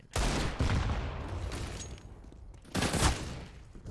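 Gunfire in a Counter-Strike esports match on the Overpass map, with MP9 and Desert Eagle shots: a loud, dense burst opens the clip, then quieter scattered shots, and a second sharp volley lands near the end.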